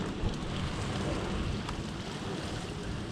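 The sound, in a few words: very heavy rain during a thunderstorm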